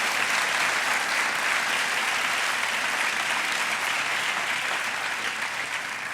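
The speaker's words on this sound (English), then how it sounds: "Please give a round of applause to the men and women of the New Orleans Police Department." Steady, dense applause from a large audience at a public address on violence in New Orleans, a loud, even wash of clapping that tapers slightly at the end.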